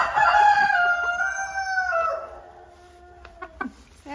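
A broody hen on a smallholding lets out a loud, drawn-out, wavering squawk up close, then a few short clucks, with no talk over it.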